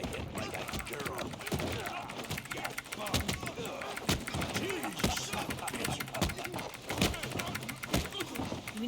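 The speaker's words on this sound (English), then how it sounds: "because my keyboard's so loud" A loud computer keyboard clacks in rapid, irregular bursts of sharp keystrokes throughout, layered over game sounds and occasional talking.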